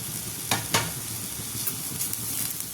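Fresh dill greens hit a pan and fry, two quick sharp sizzling bursts near the start giving way to a steady crackle with spatula stirring scrapes, close and clear with no talk.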